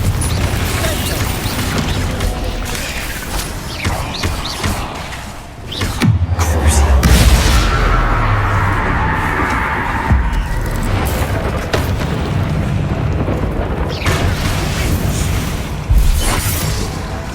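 Confringo blasting spells in Hogwarts Legacy bursting in loud, heavy booms and crashes over a constant dense rumble of game audio, with one deep swelling blast and several sharp impacts strung across the stretch.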